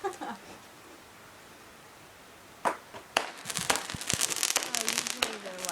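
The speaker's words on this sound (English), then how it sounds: "Oh, there's fireworks. Sorry, they're usually loud." Outdoor fireworks go off in the distance: after a quiet stretch of faint background hiss, several sharp bangs and crackling bursts arrive in quick succession, with voices faintly audible.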